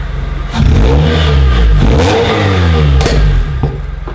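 A Mazda Miata's 2.5-litre engine revs up and down loudly and close by, rising and falling in pitch with a few sharp throttle blips.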